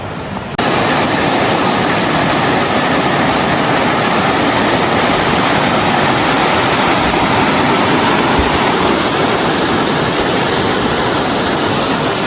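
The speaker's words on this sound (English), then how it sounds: "it's the third waterfall today" A waterfall along a creek on a hiking trail pours in a steady, loud, broadband roar that fills the whole span without a break after a brief quiet opening.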